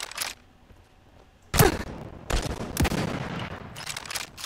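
Gunfire in the battle royale video game Realm Royale, with a faint shot early on, then a loud cracking shot followed by a run of sharp bursts and rattling fire, fairly close and without talk.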